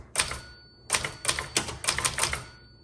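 A 1968 Webster XL-500 typewriter types in quick bursts of sharp, close key strikes: a single clack, a pause, then a rapid run of about eight crisp hits with metallic ringing.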